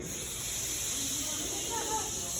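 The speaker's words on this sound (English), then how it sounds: "From outside came the sounds of hissing steam" A steady, broad hiss of steam from a train fills the clip, continuous and fairly loud, with a low rumble underneath.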